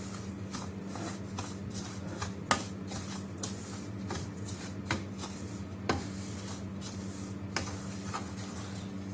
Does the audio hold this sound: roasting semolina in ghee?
yes